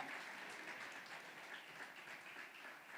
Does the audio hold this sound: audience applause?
yes